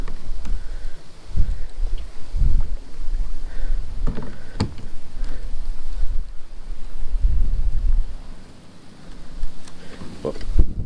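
Strong wind buffets the microphone while a fishing boat is paddled on open water, a loud, continuous rumble with irregular gusting swells and a brief lull near the end.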